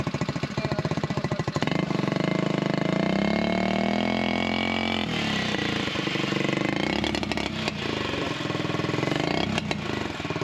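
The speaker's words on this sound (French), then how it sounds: "au ralenti il tourne bien" A homemade buggy's engine runs close and loud for the whole stretch, a steady rough idle with a rising, labored pitch partway through, then settling back with a few sharp rattling bursts near the end.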